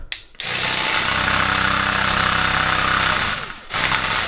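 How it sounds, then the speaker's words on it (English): A Black & Decker cordless scrubber with a pole runs close by with a loud, steady motor whine and buzz, starts abruptly after a moment of silence, and dips briefly as it cuts out near the end. "It's a Black & Decker scrubber."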